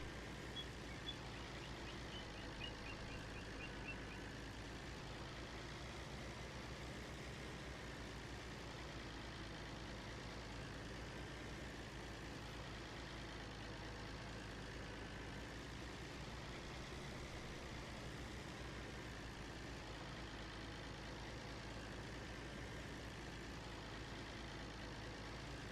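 A tractor pulling a cultivator in a farming game with realistic weather, an older, underpowered machine: a faint, steady low engine drone that runs unchanged throughout, no voices.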